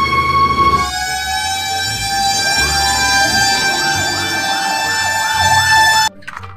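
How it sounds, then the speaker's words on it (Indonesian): Toy fire truck siren, a loud electronic wailing tone with rising and falling sweeps running nearly the whole clip before cutting off abruptly near the end, no talk. "pemadam kebakaran."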